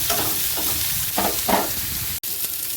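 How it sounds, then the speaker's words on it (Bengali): Potatoes fry in oil left from frying fish, tempered with nigella seeds and dried red chilli, giving a continuous close sizzle with several louder bursts as the pieces are stirred. "তারপরে আলুগুলো ভালো করে ভেজে নেব।"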